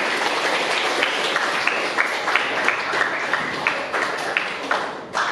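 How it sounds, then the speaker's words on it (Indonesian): A classroom of students applauds at the end of a grade 8 science lesson on the excretory system, producing steady, dense clapping throughout that is loud and close with small bursts, and no clear talk. "Boleh aplaus untuk kita semuanya."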